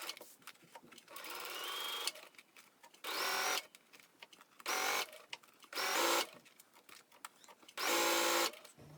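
Sewing machine stitching around the curved edge of a fabric wristlet, running in several bursts of steady whirring, loud and close, with short quiet pauses between runs.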